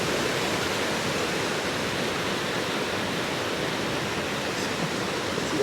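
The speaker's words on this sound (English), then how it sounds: "I'm going to get Lassie away from this water" Floodwater rushes steadily through a flooded wild camp in heavy rain, a dense, unbroken roar that stays loud and close from start to finish with no voices.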